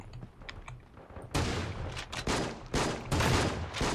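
Bursts of gunfire in the shooter game Creative Destruction, several loud rapid volleys following quieter scattered shots, close and forceful.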